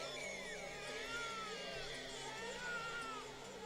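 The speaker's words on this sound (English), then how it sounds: "It sounds like a cat in heat." In the video game Chaos;Child, an eerie cat-like wailing sound plays. Several wavering, high, warbling cries layer over a low, looping game tone and continue for the whole stretch.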